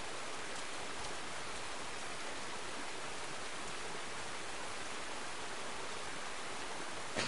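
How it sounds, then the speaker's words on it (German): Steady, even rain hiss from the German-language video game Rain, continuous and unbroken from start to finish with no talk over it. "Nur dieser ständige Regen, meine ich, der macht einen ein wenig depressiv."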